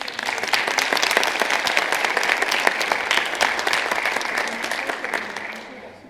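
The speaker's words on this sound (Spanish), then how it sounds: "Un aplauso y agradecimiento a Morlet por su acompañamiento." Audience applause at a copyright conference during an art festival, a dense, steady wash of many hands clapping close by for about six seconds before tapering off at the end.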